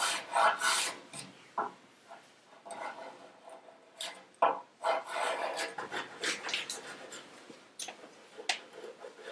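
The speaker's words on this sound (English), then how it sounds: "you can grind scrapers that will just scrape a portion of the molding" A hand scraper rasps along a wooden molding on a document chest, giving repeated short scratchy strokes in an irregular rhythm, close up and fairly quiet, with no talking.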